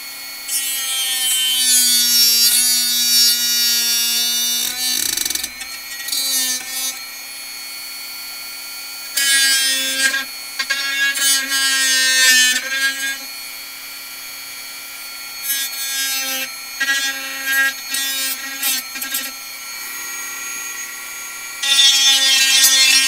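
A Dremel rotary tool whines sharply in repeated bursts, its high, buzzing pitch starting and stopping several times with brief quiet gaps between, loud and close.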